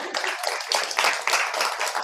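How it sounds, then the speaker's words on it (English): Audience applause at a speaking event for aspiring professional speakers, a brief burst of dense clapping from a crowd, moderately loud and without talk. "Yeah, you can clap."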